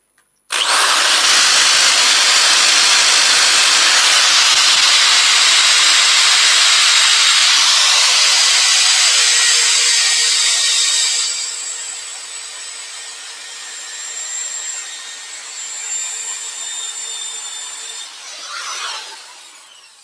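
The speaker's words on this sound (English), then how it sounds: "we will finish off the sanding with" Sanding a spalted beech bowl with 240 grit: a loud, steady hissing abrasive rush for about ten seconds, then a softer, fading scratch as the paper eases off and stops.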